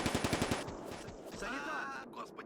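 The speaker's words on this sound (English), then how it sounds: "I think we are being targeted finally by the MG" Rapid bursts of machine gun fire in the Combat Mission: Barbarossa to Berlin wartime game, a close rattling volley of shots that cuts off and is followed by quieter battle noise.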